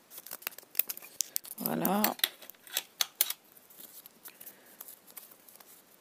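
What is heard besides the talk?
scissors cutting paper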